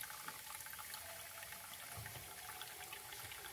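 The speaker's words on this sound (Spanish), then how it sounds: "Así es como normalmente debe salir el agua a través de ese desagüe" Dirty water running steadily out of a refrigerator's cleared drain, a continuous close splashing trickle with no voices.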